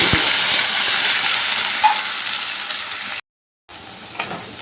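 Onion, tomato and ginger paste hitting hot mustard oil gives a steady, loud broadband sizzle that fades slightly, cuts out briefly, then resumes.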